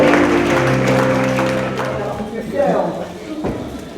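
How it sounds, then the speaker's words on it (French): A crowd at an outdoor family festival claps and cheers while a voice speaks over it in French, the applause fading out after a couple of seconds into scattered noises. "On applaudit fort"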